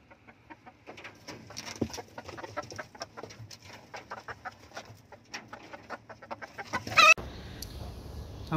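Free-ranging desi chickens cluck and peck near the house, producing a busy run of short, close clucks and scratchy movements, ending in a louder burst of handling noise.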